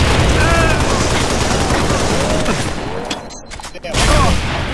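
Gunfire in the Halo Reach video game: dense rapid bursts of weapon fire that briefly drop out near the end, then resume loud and close.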